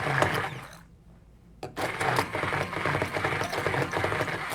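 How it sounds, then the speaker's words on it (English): A handheld blender whirs through a tofu mixture, buzzing steadily, stopping briefly, then starting again with a click and running on. "We're going to use a handheld blender and just blend it a little bit."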